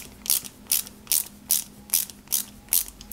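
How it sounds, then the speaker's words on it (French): Small screwdriver turning an AIM screw into an arm of a 1/8 scale Nissan Skyline GT-R model kit. Seven evenly spaced ratcheting clicks sound close and crisp, with no speech. "Et on y met une vis AIM cette fois-ci."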